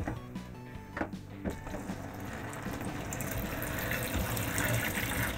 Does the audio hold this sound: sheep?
no